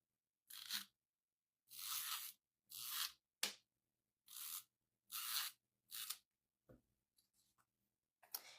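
Paper pages ripped roughly by hand: about eight separate bursts of tearing, each a short crisp rasp, with brief pauses between, close and clear in a quiet room.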